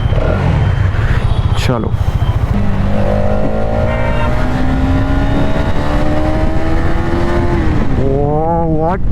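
Hero Xtreme 250R, a 250cc motorcycle, accelerating hard through the gears, its loud engine rising in pitch, dropping at a shift, then climbing again, close with wind rush and a brief spoken word.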